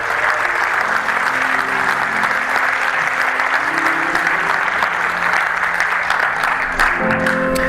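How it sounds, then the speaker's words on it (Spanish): Steady, dense applause from a large church congregation during a sermon, sustained evenly throughout with no pauses. "Dale un aplauso a Dios si tú lo crees así"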